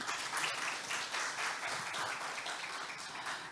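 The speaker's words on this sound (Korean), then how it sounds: "큰 박수로 맞이해 보겠습니다" An audience greets a professor's presentation with steady, moderately distant applause, an even wash of many hands clapping that holds for a few seconds without anyone speaking.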